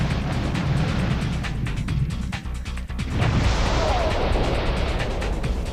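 A loud, dense explosion from the Einhander video game, a sustained roaring burst with a brief dip before the blast swells again and rumbles on, with no voices.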